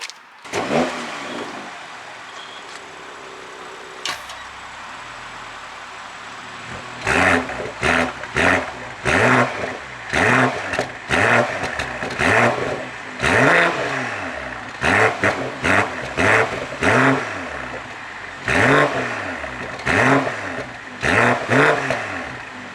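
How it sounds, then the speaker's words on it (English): A 2021 BMW M340i exhaust revs repeatedly in sharp bursts, each rev rising and falling, loud and close, after a quieter idling start. "I'm going to try to see if I can get that sweet sounding exhaust note for you."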